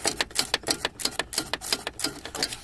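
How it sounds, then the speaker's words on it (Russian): A 13 mm wrench works loose the stabilizer bushing bolt on a VW Golf 4, giving a fast, steady run of sharp ratchet-like clicks up close throughout. "втулка выкручивается довольно легко. Ключиком на 13."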